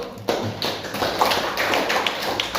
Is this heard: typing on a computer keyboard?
no